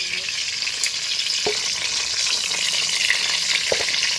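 Pointed gourd (potol) pieces frying in hot oil, giving a steady loud sizzle with a couple of brief stirring knocks and no talking.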